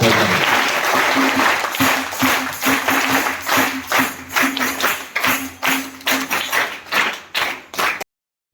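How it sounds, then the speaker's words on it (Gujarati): Applause from students and guests at a primary school flag rally, fairly close and steady for about eight seconds, thinning into separate claps near the end before stopping abruptly. "તો તાળીઓથી વધારીએ"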